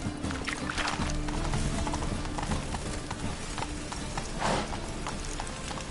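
Horse hooves clip-clop steadily under a dense game soundscape from The Witcher 3 as the rider travels on horseback, a continuous loud bed with faint rustling on top.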